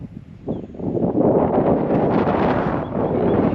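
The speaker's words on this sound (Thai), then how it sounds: "ลมแรงมาก" Strong wind blowing at a reservoir campsite, a steady, loud roar and buffeting against the microphone that builds after the first second and stays constant, with no talk.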